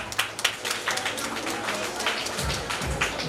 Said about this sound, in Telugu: సర్వేశ్వరునికి వందనములు అంటూ గట్టిగా చప్పట్లు పడతాం